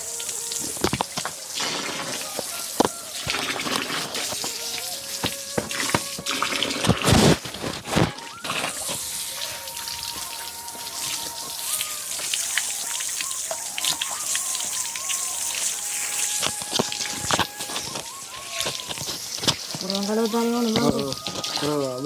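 Cassava roots being washed by hand in water, with splashing, dripping and trickling sounds running steadily throughout, close and moderately loud, with some bird chirps and occasional speech in the background.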